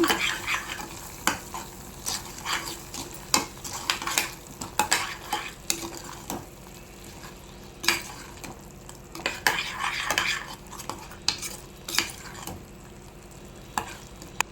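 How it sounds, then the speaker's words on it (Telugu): Egg curry is stirred in a pan, with repeated spoon scrapes and clinks against metal over a low sizzle, in a steady irregular rhythm close by. "ఇప్పుడు బాగా కలుపుదాం"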